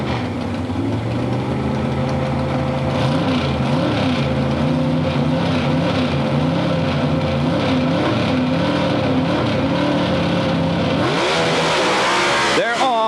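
Mountain Motor drag racing cars sit at the line at Budds Creek, Maryland, in 1984, with big engines rumbling and revving loudly and steadily, then rising in pitch as they launch, under crowd and announcer noise.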